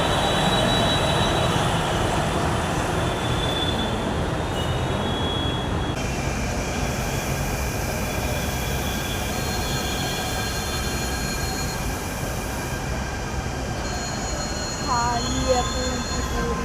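Continuous rumble of a Delhi Metro train arriving at a station, with rail noise close by and faint squealing wheels near the end as it slows.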